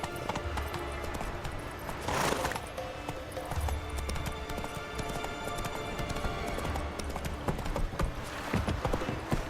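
A horse gallops in The Witcher 3, its hooves clip-clopping in a steady, continuous rhythm under ambient game sound, with a rider's brief voice heard at the start.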